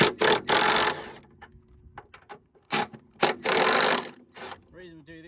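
A ratchet removing the three strut top bolts on a Ford Falcon BA/BF XR6 during a coilover install: loud, close bursts of rasping clicks alternate with short pauses and small knocks, and a brief voice is heard near the end.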